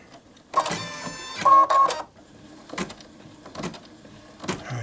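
A Brother Innov-is 2800D sewing machine runs in short bursts, with a loud mechanical whirring stretch of about a second and a half, then a brief second burst, followed by quieter clicks and light handling noises.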